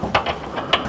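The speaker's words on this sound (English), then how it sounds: "We'll put a couple of bolts in." A ratchet ticks in short metallic clicks while bolts are driven into a custom-built transmission mount for a T5 manual conversion. Two or three close, quick bursts fall within one second.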